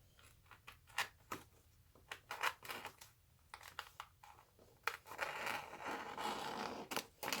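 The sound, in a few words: cutting a storage bag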